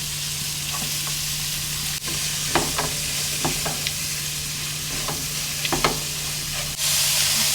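Sliced onions frying in oil in a pan while being stirred, a steady sizzle under a low hum with repeated scraping strokes of the spoon, close and fairly loud, with no voices.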